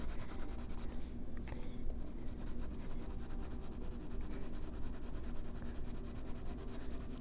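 Colored pencils scratching and rubbing on paper to fill in a flag design, a soft, continuous, close-up scratching hiss with a rhythmic back-and-forth texture and no voices.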